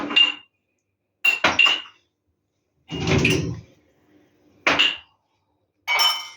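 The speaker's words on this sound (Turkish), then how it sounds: "Bulaşık makinesini boşaltıyor." Dishes and glassware clatter and clink in several separate bursts as a dishwasher is unloaded, with quiet pauses between them, close at hand.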